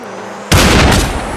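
Gunfire in the VR shooter Population: One: after a quiet half second, a sudden loud gunshot burst erupts close by and rolls into a dense, rumbling tail of rapid reports.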